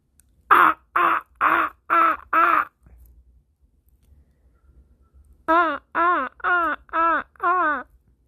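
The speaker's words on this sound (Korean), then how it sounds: "까마귀가 이렇게 우냐." A crow caws loudly and close by: five rasping caws in a quick even rhythm, a short pause, then six more, with no talking.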